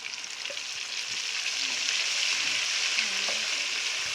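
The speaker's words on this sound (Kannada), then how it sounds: "ಈಗ ನಾನು ರುಬ್ಬಿದ್ದೀನಲ್ಲ ಅದನ್ನು ಇದಕ್ಕೆ ಆ್ಯಡ್ ಮಾಡ್ತಾ ಇದ್ದೀನಿ" Ground paste for a doddapatre gojju chitranna added to a hot frying tempering, with a loud, continuous sizzle that swells as it hits the oil, along with light stirring scrapes.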